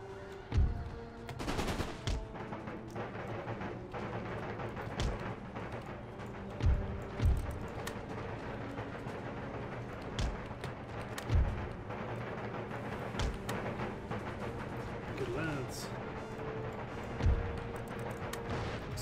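Musket volleys from infantry firing squares in Empire Total War, scattered crackling shots and louder periodic booms popping at irregular intervals over a continuous distant battle din.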